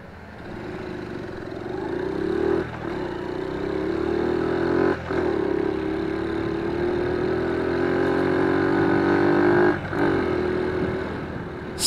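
A small Honda Magna 50 motorcycle engine hums steadily while riding, its pitch rising and falling through several gear changes with brief dips between them, sounding fairly close with no voices.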